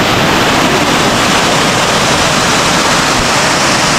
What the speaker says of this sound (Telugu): Elephant water falls.